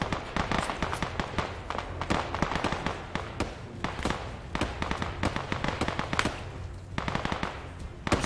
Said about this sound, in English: That is definitely a gun.